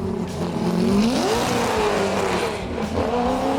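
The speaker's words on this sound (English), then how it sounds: "the performance potential is obvious from the moment the engine comes to life" A powerful Mopar V8 engine in a 1970 Plymouth Superbird tribute racer starts and runs loud and close, its pitch rising and falling through throaty revs with a rough, burbling idle underneath.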